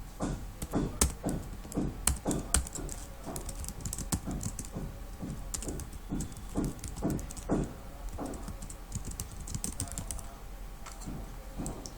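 Code being typed on a computer keyboard in Visual Studio, a brisk run of close key taps and clacks that quickens in bursts and continues steadily, no voices.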